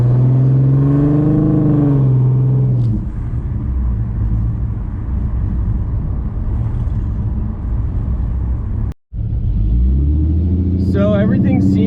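A car engine with an idle chop mod installed runs close by as a loud, steady, rumbling idle. A voice talks over the start, and the engine cuts out briefly, then restarts.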